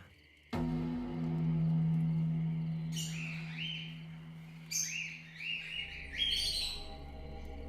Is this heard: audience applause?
no